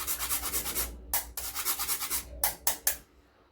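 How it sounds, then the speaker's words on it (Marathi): Whole nutmeg grated by hand over hot sesame ladoo syrup, a series of close, rhythmic rasping strokes with brief pauses between them, alone and without talk. "आता याच्यामध्ये हे जायफळ किसून घालायचं आहे"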